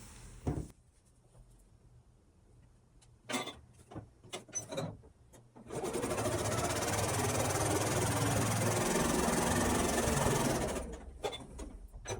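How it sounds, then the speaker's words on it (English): A sewing machine stitches a quilt block seam in a steady whirring run of several seconds. Scattered clicks and handling knocks come before it and after it, and the sound is close with no talking. "you will sew 1/4 inch on either side of the diagonal line"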